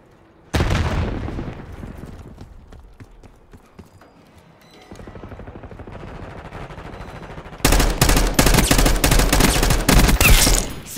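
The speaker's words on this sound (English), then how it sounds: "Frag thrown." Gunfire and a frag grenade blast fill a Call of Duty Black Ops 6 match: sharp reports and a loud burst early on, dense crackling fire through the middle, then a very loud sustained barrage of shots and explosions near the end.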